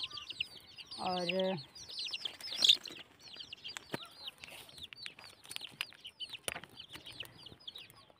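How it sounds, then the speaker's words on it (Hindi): Chickens in a village cluck and chirp close by in a busy, irregular chorus, with a brief louder squawk and a short spoken word among them. "मुर्गियाँ भी आ गई हैं।"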